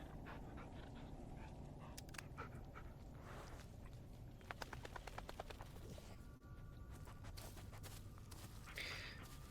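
A dog pants rapidly and steadily while being petted in the Blair Witch video game, close and fairly quiet, with faint shuffling footsteps and small rustles mixed in.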